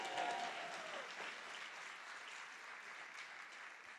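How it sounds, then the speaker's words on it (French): A church congregation claps and cheers for the preacher's wife, a broad sustained wave of applause that starts strongest and holds steady, with a voice briefly audible at the start. "Est-ce que vous pouvez acclamer pour ma femme?"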